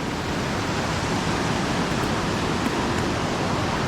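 The flooded Nisdi Khola river rushes in a dense, steady roar of turbulent water, loud and constant with no voices.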